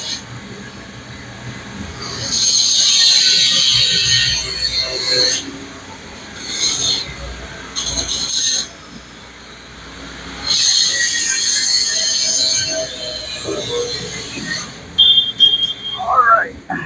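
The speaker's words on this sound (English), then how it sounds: "You'll currently hear Shane cutting a piece of exhaust. Looks really cool with all the sparks" Metal exhaust pipe being cut with a spark-throwing cutter on a Dart project car, loud harsh rasping bursts that start and stop repeatedly, with quieter gaps between cuts and some ending clatter.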